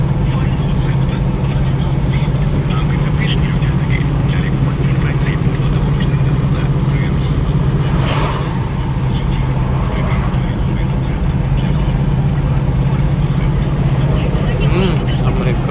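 A GAZ-53 truck cruises steadily with its engine holding a constant loud, low drone from inside the cab throughout, and someone talks over it.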